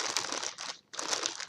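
A plastic bag holding knitting supplies crinkles and rustles close up in two bursts of handling separated by a brief pause, with no talking.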